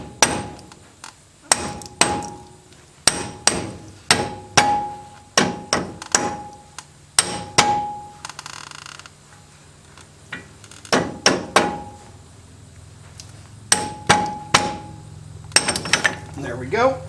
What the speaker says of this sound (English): So here we'll go ahead, we use a rubber mallet.